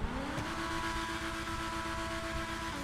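The Progen GP1 sports car engine in GTA Online revs hard and steady with a rising whine, a loud, continuous motor roar that fills the clip.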